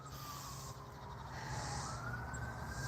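A siren wails in the distance, its tone sweeping slowly upward over a steady traffic rumble, with no voices.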